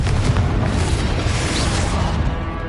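A Confringo fire spell detonates in the video game Hogwarts Legacy, a loud, dense, rumbling blast that fills the sound and holds steady before easing slightly at the end.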